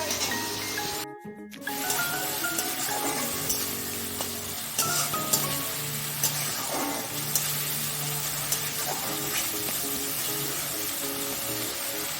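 Ground spices, turmeric, salt and chilli powder, fry in oil in a pan with a steady soft sizzle, punctuated by the clink and scrape of a spoon stirring against the metal, with a short silent gap near the start.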